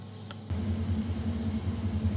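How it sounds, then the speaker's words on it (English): An air conditioning recharge machine on a Peugeot Partner or Citroen Berlingo starts up abruptly, pulling a vacuum with a low, steady mechanical hum and rumble, continuing evenly at close range. "Now it's just started to pull down its vacuum."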